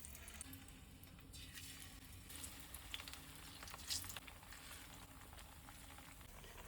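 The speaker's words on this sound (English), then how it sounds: "Now the oil hot, I'm going to drop the plantains one by one." Plantain slices fry in hot vegetable oil with a steady, quiet sizzle and fine crackle throughout, a few brief louder pops near the middle, no voices over the frying.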